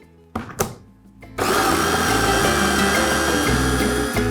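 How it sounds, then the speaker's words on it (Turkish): After a couple of clicks and knocks, a blender starts up with a loud, steady whirring roar that shifts as the contents churn, blending pesto sauce. "Şimdi blenderdan geçiriyorum"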